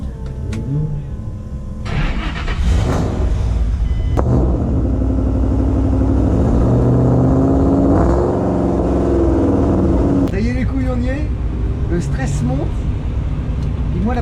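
A drift car's engine rumbles loudly and revs up in sustained surges during a warm-up run at a French drift championship round, with people talking nearby over the noise.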